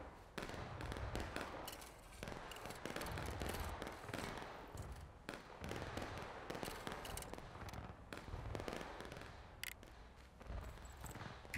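Musket volley fire in the Civil War video game War of Rights crackles continuously, with many overlapping shots popping near and far in ragged bursts throughout.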